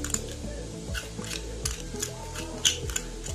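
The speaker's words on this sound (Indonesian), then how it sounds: "ini akan saya aduk dulu" A bowl of sugar, salt and potato dough for onde-onde being stirred by hand, giving soft irregular scraping and clinking strokes with a few brighter utensil taps against the bowl, close and fairly quiet.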